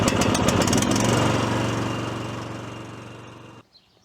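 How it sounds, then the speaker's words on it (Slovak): A HECHT 5292 garden tractor engine runs loud and close with a steady, throbbing drone that slowly eases. It cuts off abruptly near the end, leaving a short faint tail. "Ako náhle na traktor vysadnem, zošlapnem brzdu a naštartujem, tak traktor pekne chytí."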